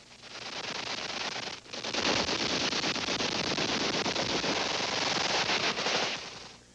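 Machine guns fire at a night shoot in long, rapid bursts. The dense rattling continues for several seconds with a brief pause near the start, loud and close, with no voices.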